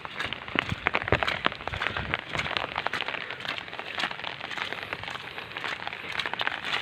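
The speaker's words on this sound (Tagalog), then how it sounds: "Grabing ulan dito sa amin." Heavy rain pelts a surface nearby, a dense, continuous patter with sharper individual drops cracking through.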